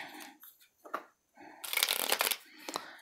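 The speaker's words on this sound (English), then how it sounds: "I don't know why I can't shuffle these cards right" Tarot cards are shuffled by hand in short riffling bursts, with one longer, louder flurry in the middle, close up and quiet with no talking.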